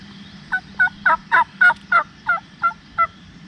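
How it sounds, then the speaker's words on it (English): A wild turkey gobbler with his hen in a cut cornfield gobbles in one rapid, rolling run of about ten throaty notes, carrying clearly from mid-distance over a low steady background, with no talking. "This gobbler got preoccupied with his hen out in this cut cornfield just outside of gun range."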